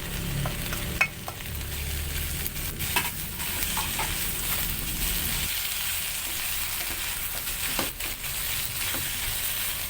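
Long beans and cabbage being stir-fried in a pan, a steady close sizzle with scraping stirs and clatters of the utensil throughout, no talking.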